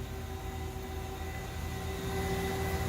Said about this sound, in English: Chip conveyor is currently running.